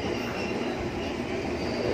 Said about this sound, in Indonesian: Sorry, ada suara kereta.